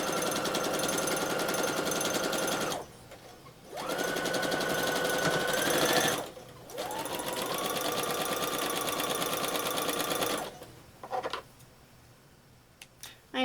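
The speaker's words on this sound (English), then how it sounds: "I am using a little bit of a thinner fabric, and sometimes the machine just doesn't care for it" Sewing machine stitching thin fabric for a quilt block, a fast close mechanical chatter in bursts with short pauses between runs.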